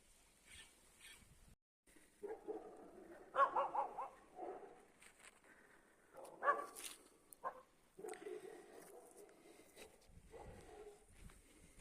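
Two dogs barking in the distance near a river during a fishing outing, a series of faint, irregular barks and yips separated by quiet gaps.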